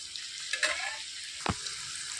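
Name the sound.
onions frying in a pan with ivy gourd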